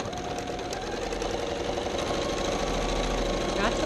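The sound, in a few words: sewing machine sewing quilt seams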